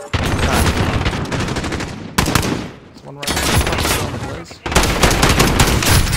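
Rapid machine gun fire in a first-person shooter video game, dense sustained bursts broken by two brief pauses, loud and close throughout.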